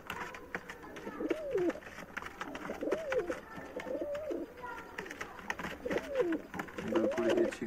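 Golden pigeons cooing in a pair, with repeated soft, throaty coos in a regular rhythm close by over a faint hiss of background noise.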